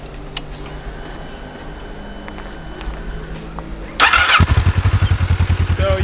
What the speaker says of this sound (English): we're going to do a cold start here, and I'm going to show you that it's not that loud of an exhaust